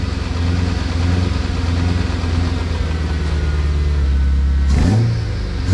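A rebuilt BMW E92 M3 pulls away in first gear, its engine droning loud and close as revs climb steadily, then dropping sharply with a brief whoosh near the end as the throttle lifts for a shift.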